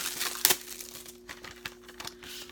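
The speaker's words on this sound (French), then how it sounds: "Je vais vous le déballer, on va voir l'intérieur." Plastic wrap crinkles and tears as a 4K Ultra HD Blu-ray combo of IT Chapter Two is unwrapped, a sharp crackle near the start followed by softer intermittent rustles close by.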